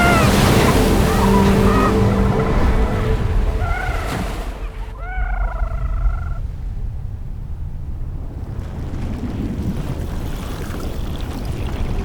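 Large ocean waves in the Drake Passage give a steady broadband rush of surf and open water that runs the whole way through, with a brief tonal cry rising over it near the middle.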